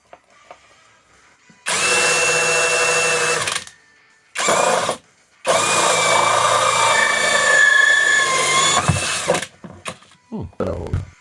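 A power drill bores a larger hole for a 26 mm adapter on a DIY parts washer, whining loudly in three sustained bursts separated by brief pauses, then trailing into a few short clicks and knocks.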